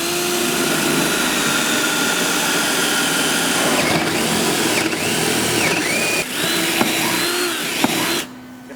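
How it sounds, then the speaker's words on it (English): A power drill bores a 5/8 inch hole down through deck boards and wooden blocking, a steady close whine that dips and strains in places before cutting off near the end. "a 5/8 inch hole needs to be drilled from the top of the deck through the decking and blocking"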